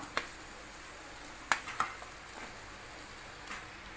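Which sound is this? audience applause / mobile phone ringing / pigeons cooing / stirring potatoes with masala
stirring potatoes with masala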